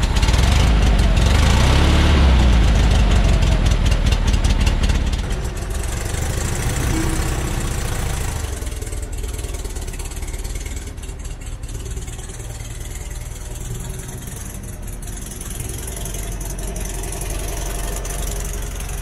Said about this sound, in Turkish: Tipik bir boxer motor sesi.